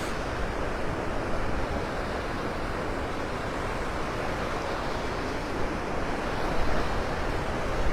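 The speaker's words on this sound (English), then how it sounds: "That wind's coming straight in off the Gulf." Steady wind and breaking surf roll on together at a Gulf beach in North Naples, Florida, one continuous broadband roar that holds level for the whole stretch with no voices.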